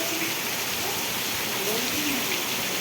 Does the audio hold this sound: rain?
yes